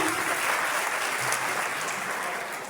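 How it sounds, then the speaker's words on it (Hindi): Audience applause at a church gathering during an evangelist's speech, a steady wash of clapping that holds throughout and tapers slightly toward the end, with no talk over it. "जोरदार तालियां बजाएं।"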